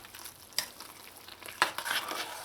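A spoon turns chicken pelau with red beans in a pot, two distinct scraping stirs amid a soft background sizzle, close and fairly quiet.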